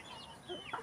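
Chickens being fed give a few soft, brief clucks, faint and close, within a very short moment.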